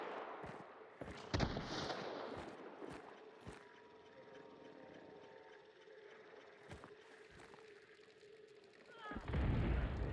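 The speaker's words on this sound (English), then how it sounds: "There's a man right here shooting me." Gunfire in Hunt: Showdown, several sharp cracks and booms scattered over a low, rumbling outdoor ambience, some close and loud, with a heavier blast toward the end.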